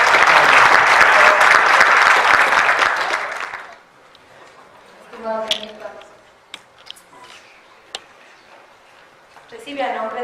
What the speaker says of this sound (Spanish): Un aplauso para nuestro invitado.